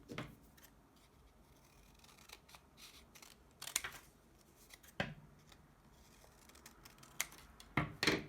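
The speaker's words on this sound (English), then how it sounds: "And then I'm going to cut out both sides." Scissors cut paper to make a paper shark, giving irregular close snips and crisp paper rustles in bursts, quiet and without speech.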